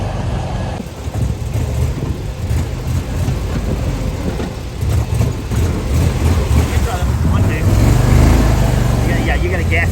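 An Argo amphibious all-terrain vehicle drives along with a steady low engine drone and rumble, mixed with wind buffeting the microphone, loud and close throughout.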